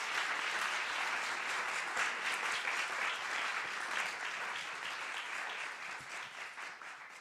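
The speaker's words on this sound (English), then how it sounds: "Can we get one more round of applause for the wonderful items of our SSC children?" Sustained audience applause fills a community hall during a Sai Centre birthday celebration after children's performances, a dense, steady wash of many hands clapping that tapers slightly toward the end.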